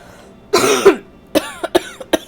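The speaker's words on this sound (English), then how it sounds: "I had to hold that cough in until he was done talking" A person coughing hard while playing a video game, one long rasping cough followed by several short, sharp hacks, close and loud with no talk over them.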